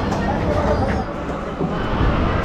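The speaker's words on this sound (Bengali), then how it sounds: "ট্রেন ঢুকছে রানাঘাট লোকাল।" Ranaghat local train pulling into a station, a steady loud rumble of the carriages with platform noise and a voice talking over it.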